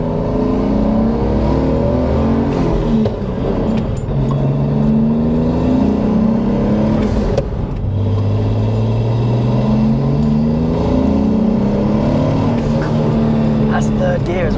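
A B58-swapped BMW E46 Touring pulls hard in third gear, its engine note climbing steadily and loud throughout with people talking over it.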